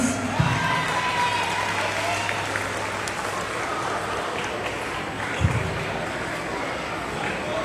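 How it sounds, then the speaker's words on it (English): An audience at a school principal's birthday celebration applauds in a steady, moderately loud patter of clapping that runs throughout, with faint crowd murmur beneath. "A big round of applause"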